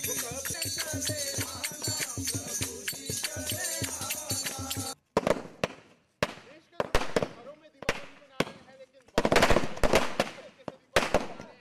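Diwali firecrackers set off by soldiers at a border post: after a stretch of music and voices, sharp crackling bursts and pops ring out in irregular clusters, loud and near.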